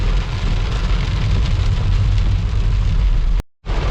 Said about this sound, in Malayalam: കണ്ടോ എന്നാ മഴയാന്ന് നോക്കിയ വെളിയിൽ.